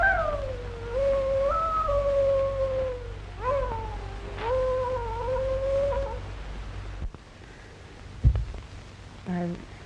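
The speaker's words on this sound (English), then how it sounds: "I wish you'd stop that awful howling." A dog's long, wavering howl from a 1935 western film, several drawn-out rising and falling cries lasting about seven seconds, followed by a quieter stretch with a thump and a brief voice.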